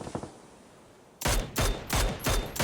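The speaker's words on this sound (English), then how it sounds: "Great shots onto Batulins on the bike" Gunfire in PUBG during a professional esports scrim, starting with a faint patter of distant shots and then four or five loud, close bursts of rapid firing in quick succession.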